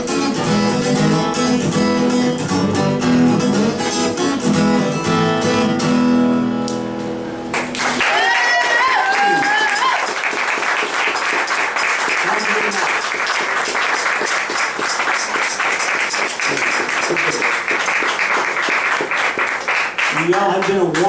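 Enthusiastic live audience applause after a song, a dense sustained wall of clapping that follows the music's final chord and carries on loudly for over ten seconds.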